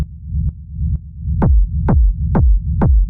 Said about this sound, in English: your rumble is sounding really good with your main kick